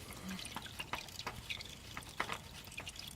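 Engine oil dripping from a removed Chevy Silverado oil filter, heard as faint, irregular drips and small splashes over a low background hiss, close and without talk.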